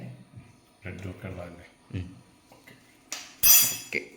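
Batter with pepper and salt is mixed in a bowl, with a few scattered clinks and scrapes of a spoon against the bowl between stretches of talking, ending in a louder clatter.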